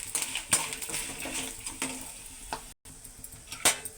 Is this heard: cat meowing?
no